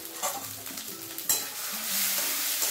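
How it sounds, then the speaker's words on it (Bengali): Peas filling being stirred with spice paste and salt in a frying pan, a steady sizzle with soft scraping strokes of the spoon, close and moderately loud. "এবার এটা ভালো করে নেড়ে চেড়ে নেব।"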